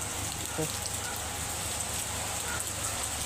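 Heavy rain pours steadily outdoors in Baguio during a downpour, a dense continuous hiss with no break across the clip and a faint low rumble underneath.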